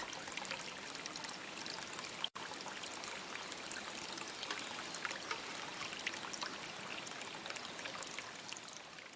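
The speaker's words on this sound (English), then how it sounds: "The sound of waves in a small fishing village." Waves wash in at a small fishing village as a steady, continuous rush of water. The sound is fairly soft, alone and unbroken, with no voices.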